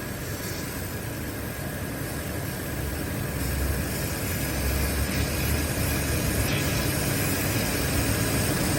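A Range Rover engine with an overheating problem runs steadily at idle, a broad low rumble with hiss that grows slightly louder partway through, with no talking.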